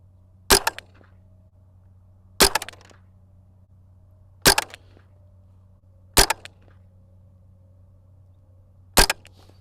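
Five rifle shots fired at 50 yards through a Monstrum 1-4x20 Banshee LPVO scope, each a loud sharp crack with a short tail, evenly spaced about two seconds apart over a low steady hum.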